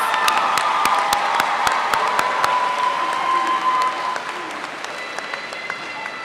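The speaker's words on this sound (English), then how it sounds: "Let's give our honor grads another round of applause" A high school graduation audience applauds the honor graduates with dense clapping and a few whoops, strong at first, then gradually easing to lighter clapping.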